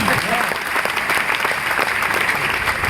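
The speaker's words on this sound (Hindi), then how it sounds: "ताली तो बजाई दो कम से कम।" Audience clapping at a motivational speech, a continuous, loud burst of many hands applauding close together, with scattered voices mixed in.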